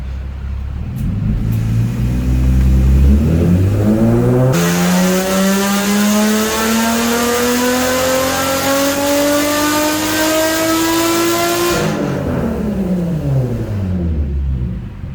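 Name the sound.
car engine revving on dyno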